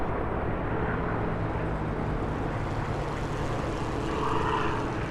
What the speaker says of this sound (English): The Spitfire celebrates by performing some classic aerobatic maneuvers.